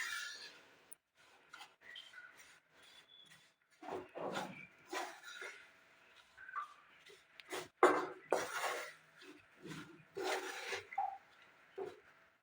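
A spoon scrapes and stirs a thick Marie biscuit mithai mixture in a pan, producing intermittent close rasping and clinking strokes separated by short quiet gaps.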